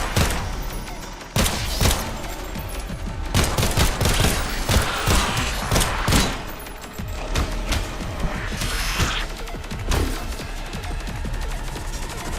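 Rapid video game gunfire in Beyond Hanwell, loud bursts of automatic fire and clustered shots hammering continuously with brief lulls, alone without talk.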